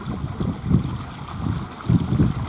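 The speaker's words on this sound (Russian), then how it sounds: "Первые ручейки такие пробываются" Small spring meltwater streams gurgle and rush steadily outdoors in a village, with a soft wind-like rumble underneath.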